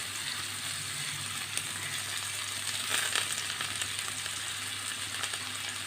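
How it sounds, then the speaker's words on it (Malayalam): Chopped onion and curry leaves with a pinch of salt sizzling in hot oil, a dense continuous frying crackle with a brief swell of stirring near the middle, close and steady with no voices. "ലേശം ഉപ്പ് കൊടുത്ത് നമുക്കൊന്ന് വഴറ്റിയെടുക്കാം"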